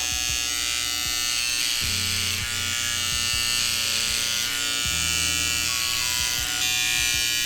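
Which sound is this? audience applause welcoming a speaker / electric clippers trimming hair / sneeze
electric clippers trimming hair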